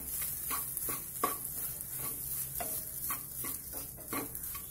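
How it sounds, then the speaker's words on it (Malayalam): Grated coconut sautéed in a pan for banana balls, soft stirring scrapes and taps of a spoon against the pan repeating at an irregular pace over a faint, steady sizzle, close and quiet. "നാളികേരം ചേർത്ത് ഒന്ന് ചെറുതായിട്ടൊന്ന് വഴറ്റണം"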